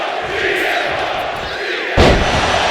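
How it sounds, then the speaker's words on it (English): Loud arena crowd noise in the WWE 2K25 wrestling video game, a steady roar of cheering that swells suddenly with heavy thuds near the end. "this crowd is clearly behind CM Punk."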